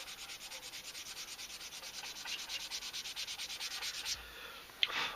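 Hand sanding a knife handle with 320 grit sandpaper, a steady run of quick rhythmic rubbing strokes, close and fairly quiet, with a short pause and a small knock near the end.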